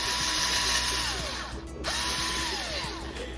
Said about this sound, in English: take your drill, make the holes a little bigger